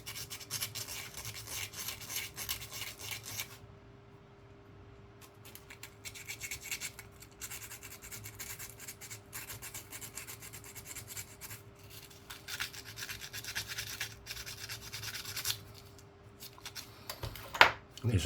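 Fine sandpaper rubbing on a ring made from a 2008 Tunisian 100 millim coin, a soft continuous rasping close by with brief pauses and a sharper knock near the end.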